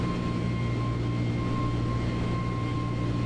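Steady cabin drone of an FBW A32NX airliner in Microsoft Flight Simulator, a constant low engine rumble with a thin steady tone above it, even and unbroken throughout with no talking.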